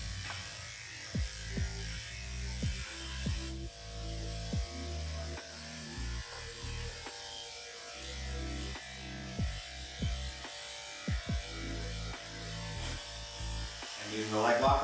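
An electric dog clipper buzzes steadily while trimming a Shih Tzu's leg, with its pitch shifting as it runs through the coat. A voice talks over the buzzing for most of the clip, and soft handling bumps break in now and then.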